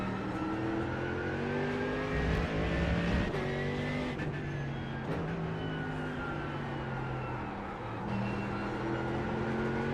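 A GT3 race car in the iRacing game at Catalunya revs steadily, its engine rising and falling through gear shifts as a continuous loud drone with no voices.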